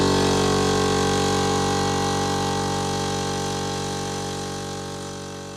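An air compressor runs continuously at close range while spraying, producing a loud, steady motor drone that slowly fades toward the end.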